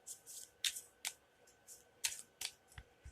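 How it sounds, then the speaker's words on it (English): A deck of playing cards is shuffled quickly during a card reading, giving a run of soft, crisp riffling flutters and snaps in irregular bursts, close and fairly quiet. "And then another quick shuffle."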